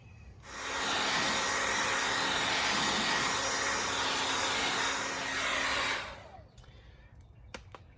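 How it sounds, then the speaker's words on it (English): A hair dryer blows steadily on a decal on a 2016 Jeep Freedom Edition, a loud, even whooshing hiss that runs for about five seconds and then cuts off, leaving faint clicks and handling noises. "I'll hit that with the, not the heat gun, the hair dryer"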